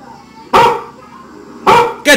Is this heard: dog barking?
yes